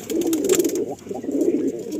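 Pigeons coo in a loft in two close, throaty bursts with a brief gap between, fairly loud and near, with a light rustle alongside.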